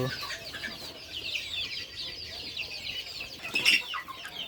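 Several chickens cluck and chirp softly nearby in a steady, overlapping chatter, with one sharper call rising briefly near the end.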